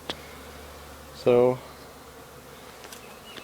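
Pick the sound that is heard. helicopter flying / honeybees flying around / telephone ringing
honeybees flying around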